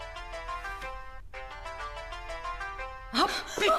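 A phone ringtone plays a repeating electronic melody of steady tonal notes with a short pause midway, then a burst of shouting voices cuts in near the end.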